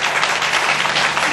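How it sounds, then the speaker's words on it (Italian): Audience applause for a beauty pageant contestant at a Miss Food&Girls event, a short burst of steady, dense clapping filling the space with no voices over it. "Un applauso a Margherita Di Pristo"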